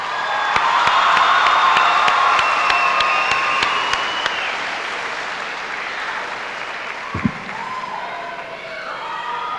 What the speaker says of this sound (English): let's give them one more nice round of applause